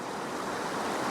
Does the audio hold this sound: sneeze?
no